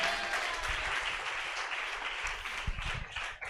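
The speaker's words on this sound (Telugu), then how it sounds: "చప్పట్లు కొడదాం" A church youth retreat audience applauding in a hall: dense, sustained clapping from many hands at moderate loudness for the whole stretch, with no speech over it.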